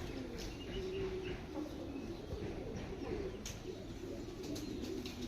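Pigeons cooing: soft, low, continuous murmuring calls layered together, with a faint chirp or two and steady outdoor background noise.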